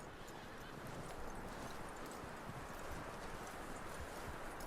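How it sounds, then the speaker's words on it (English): A horse's hooves clip-clop in a steady rhythm in Red Dead Redemption 2, loud and close over a constant bed of background noise, with voices faintly underneath. "That looks like a decent horse."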